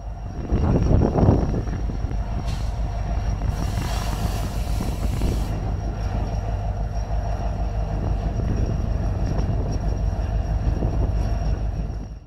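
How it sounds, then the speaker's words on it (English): Train L557 rolls slowly past in a steady low rumble, with a brief hiss and faint squeals over the continuous heavy wheel and engine noise. "As L557 was approaching very slowly, the conductor hollered out and said that they would stop the train briefly"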